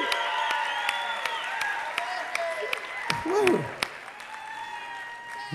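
Dance-show audience applauding and cheering in a hall, steady clapping throughout with a loud whoop and brief voice near the end.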